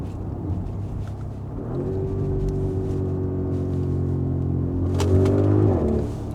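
An Audi RSQ8 accelerates, its engine a low steady rumble that climbs smoothly in pitch and grows louder near the end, heard from inside the cabin with no talking.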